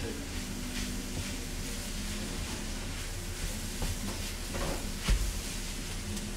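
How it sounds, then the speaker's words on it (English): Onions and garlic fry in a pan over high heat for a keto zucchini carbonara, giving a steady, even sizzle with a faint clatter of stirring near the end. "crank up the heat a bit more and then just cook the onions and the garlic"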